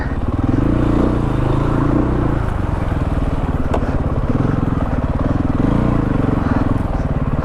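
A 2016 KTM 500 EXC dirt bike ridden off-road through mud, its engine a loud, steady, close drone that barely varies and runs the whole time.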